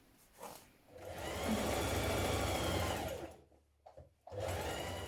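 Close sewing machine stitching the inside leg seams of dungarees: a steady run of stitching swells for about two seconds, pauses with a few faint clicks, then starts up again, with no voices.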